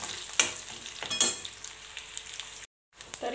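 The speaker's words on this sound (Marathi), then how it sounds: "ते पण छान तेलामध्ये तळून घ्यायचे" Crushed peanuts frying in hot oil alongside green chilies in a pan for a ridge gourd vegetable dish, a close steady sizzle with a couple of sharper stir scrapes and a short silent gap.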